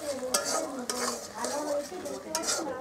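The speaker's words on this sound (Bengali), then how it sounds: "টক দইটা দিয়ে আমি ভালোভাবে আর একটু নেড়ে নিচ্ছি" A spoon stirs sour yogurt into a paneer curry with ripe bean seeds in a pan, making rhythmic scraping and clinking strokes, three or four sharper knocks over a faint bubbling simmer.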